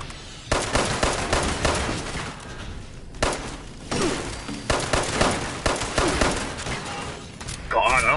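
Video game gunfire in repeated dense bursts of loud shots with short gaps between them, close and busy over a noisy backdrop.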